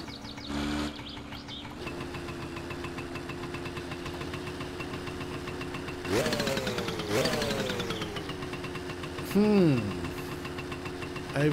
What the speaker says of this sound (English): Oh, hey, the tractor's here!